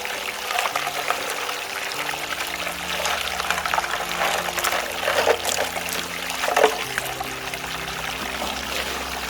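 Water streams and splashes continuously through a mini monster gold sluice on a dry seasonal creek, washing rocks, with rattling gravel and small clatters over a steady pouring rush.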